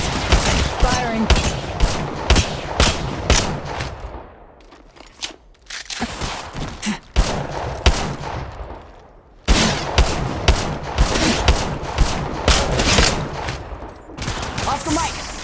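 Gunfire in the shooter game Apex Legends: dense bursts of automatic fire, loud and close, broken by a short lull and then resuming, with footsteps and quiet voice callouts mixed in.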